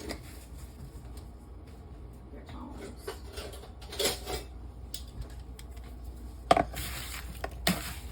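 Apple tart filling with lemon juice and a dash of salt is stirred in a bowl, the utensil scraping and clinking against the sides in scattered knocks while a person talks.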